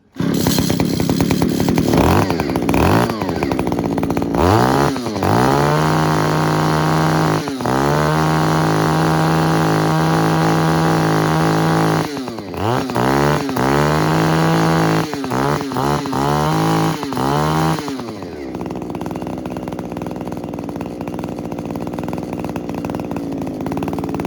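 A small petrol engine runs steadily at a rough idle, with several brief revs and sputters along the way, loud and close throughout.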